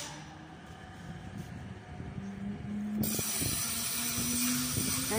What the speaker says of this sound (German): Der Zug fährt gerade auch ab.